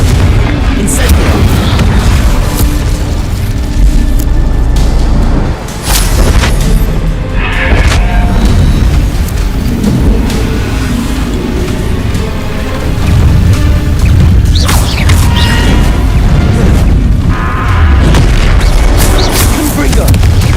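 Confringo fire spells blasting in the video game Hogwarts Legacy, repeated heavy booming explosions in quick succession amid other spell effects, with a voice calling out over the combat.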